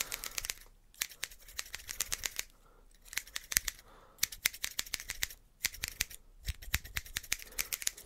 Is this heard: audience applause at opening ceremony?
no